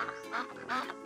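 A pet duck on a farm in Graffignano quacks in a rapid series of nasal calls, fairly close and moderately loud, with faint background noise.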